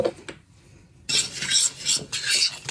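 Thyme, chili powder and olive oil seasoning being mixed together in a bowl, heard as a close, steady scraping and rubbing of a utensil after a brief quiet pause.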